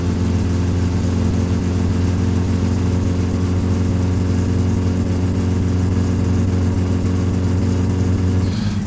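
Car engine in My Summer Car drones steadily with a strong low hum and throaty revving while driving, loud and continuous throughout, cutting off near the very end.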